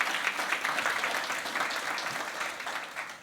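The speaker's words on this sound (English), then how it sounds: "another big round of applause for Tracy and her vision" Steady, dense applause from a conference audience at a women's business pitch event, continuous and fairly even for the whole stretch with no voices standing out.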